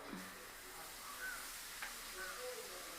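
Semolina roasting in ghee in a pan for rava laddu, a faint, steady sizzle with light scraping of stirring, quiet and continuous.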